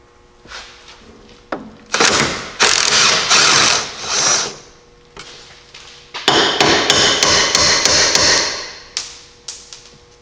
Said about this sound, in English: we'll go and unbolt it from the Jeep side up here